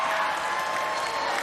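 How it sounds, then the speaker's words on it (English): A panel audience cheers, a short burst of loud crowd noise and clapping that holds steady throughout. "Women cheer, men boo."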